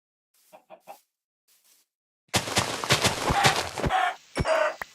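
Minecraft chicken clucks: a few faint soft clucks, then a dense burst of close, busy clucking and flapping-like clatter with several sharp repeated calls.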